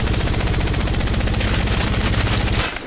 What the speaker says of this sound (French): C'est une arme qui prend de la vitesse en tirant.